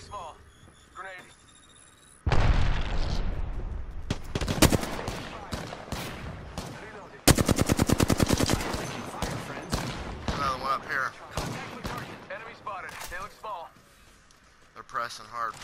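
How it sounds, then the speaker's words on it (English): Enemy gunfire in the Apex Legends battle royale, with dense bursts of automatic fire and a sustained rapid volley mid-clip, loud and close, mixed with game voice callouts and scattered explosions. "The enemies are shooting at me."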